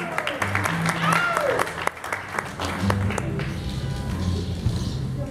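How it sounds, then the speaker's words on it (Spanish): Audience clapping at a Mexican music venue, with bursts of applause mixed over lingering music and crowd murmur, a few sharp claps standing out near the front. "Todo el mundo el aplauso."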